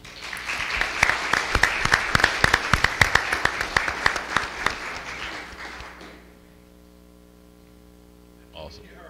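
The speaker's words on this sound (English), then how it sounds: "Let's give these students another round of applause." An audience at a school board meeting applauds with steady clapping for about six seconds, then it dies away into quiet room hum, followed by a brief faint sound.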